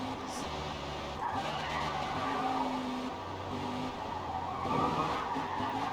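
NASCAR race car in a video game sliding sideways on a Japanese mountain touge road, engine drone with rising and falling tire squeal and skid noise throughout, fairly faint and continuous.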